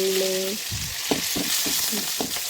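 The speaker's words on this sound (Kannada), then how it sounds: "ಈಗ ನಾನಿಲ್ಲಿ ಒಗ್ಗರಣೆ ಕೊಡ್ತಾ ಇದ್ದೇನೆ ಸ್ವಲ್ಪ ತೆಂಗಿನೆಣ್ಣೆ ಹಾಕಿದ್ದೇನೆ ಮತ್ತು ಸಾಸಿವೆ ಬೇಳೆ" Mustard seeds and lentils sizzle in hot coconut oil for a tempering, a steady bright hiss with small pops and crackles, close and alone, with a few soft stirring knocks against the pan.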